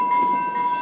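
A Rail Runner commuter train in New Mexico, bound for Santa Fe, rolls along with a steady mechanical rumble and a sustained tonal whine, heard continuously up close from on board.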